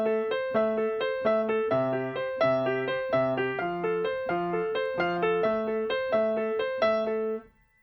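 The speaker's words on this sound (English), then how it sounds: "When you add this left hand part to the arpeggio pattern, the rhythms work together and they sound like this" Piano plays a flowing arpeggio pattern over a rhythmic left-hand part, the bass chords and the rippling upper notes locking together in a steady pop groove, close and clear, with no talking.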